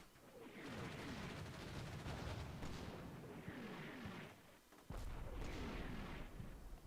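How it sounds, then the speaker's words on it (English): Mortar and artillery fire in the wargame Combat Mission: Shock Force 2, with dense rumbling blasts and crackling impacts filling the scene nearly continuously, swelling and easing, then a sharp fresh burst near the end. "Enemy mortars are coming down hot"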